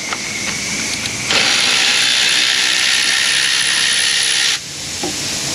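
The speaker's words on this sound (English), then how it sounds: "I got to go over to the vise, reverse my ratchet, and get it to unbite" An air ratchet works on a jammed pin held in a vise in an auto repair shop. It gives a loud, continuous mechanical rattle that runs for about three seconds over a steady hiss of shop air, with faint clicks before and after.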